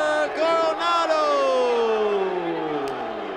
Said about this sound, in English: Nice home crowd pop for Javier Coronado.